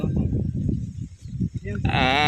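On a calamansi farm, a goat bleats once, loud and close, in a wavering cry near the end. People talk through most of the moment beforehand.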